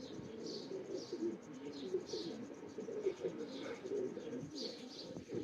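Teddy Rampuri pigeons coo in repeated soft rolling calls close by, with occasional light chirps and a faint murmur of voices behind them.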